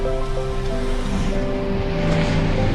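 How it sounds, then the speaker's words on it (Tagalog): Heavy, continuous roar of rough sea waves with steady engine-like hum and wind buffeting, loud and unbroken throughout, at sea near Timonan in rain. "Grabe alon"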